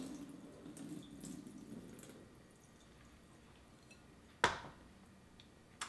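Ice water drains from a bowl of soaked sweet potato slices held back by hand, a soft trickle and splash fading to drips, with one sharp knock near the end.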